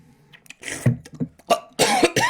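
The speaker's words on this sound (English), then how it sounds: "I'm just like coughing." A few harsh coughs burst out close by, uneven and rough, ending in a louder, longer cough.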